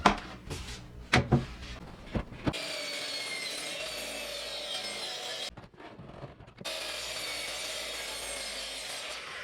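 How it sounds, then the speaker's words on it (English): Miter saw crosscutting angled ends off a wooden crosscut sled part, heard as a sustained loud whine broken by a short pause and a restart, with a few knocks and thuds before the first cut. "Now we can take it over to the miter saw and just cut these angles off."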